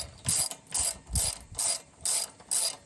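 A ratchet wrench tightens 5 mm Allen bolts on a BBR Stinger bicycle, giving six quick, evenly spaced bursts of close, crisp clicking.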